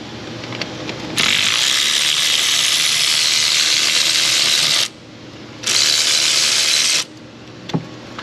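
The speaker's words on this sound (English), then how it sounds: "let's get back in those holes with our extra long socket" A ratchet drives an extra long socket on the spark plugs of a 2015 Nissan Pathfinder, giving two sustained, loud bursts of rapid clicking separated by a short pause, with lighter handling noises around them.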